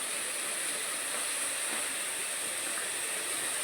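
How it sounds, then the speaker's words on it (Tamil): Tomatoes sauté in a pan during home cooking of an okra tamarind curry, giving a steady, soft hiss and faint sizzle that holds evenly throughout, fairly quiet and with no voice. "இங்கிட்டு தக்காளி வதங்கிக்கிட்டு இருக்கு"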